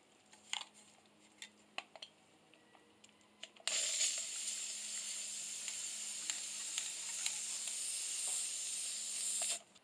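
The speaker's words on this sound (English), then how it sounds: "applying a coat of Rust-Oleum spray paint with a hammered bronze finish" A few faint clicks and rattles, then a Rust-Oleum hammered bronze spray paint can lets out a loud, continuous hiss for about six seconds, coating a pipe table frame, before cutting off abruptly.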